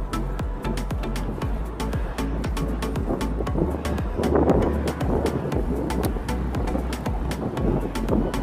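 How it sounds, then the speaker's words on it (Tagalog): Outdoor wind on a road near a market, blowing steadily as a broad low roar against the microphone, mixed with traffic rumble and repeated sharp ticking sounds. "Malamig ang simoy ng hangin."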